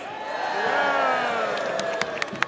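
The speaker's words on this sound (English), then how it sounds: "Give yourselves a loud cheer." A large crowd at a London Quds Day rally cheers loudly in a sustained roar, with a few sharp whoops and claps standing out near the end.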